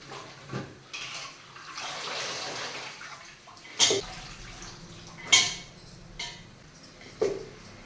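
Tap water runs into a vessel while palak spinach is rinsed for a thakku recipe, a steady soft splashing broken by a few sharp clinks and knocks of utensils.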